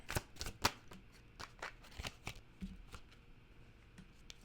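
Tarot cards are gathered back into the deck in a quiet run of soft, close slaps and shuffling riffles, with no talking.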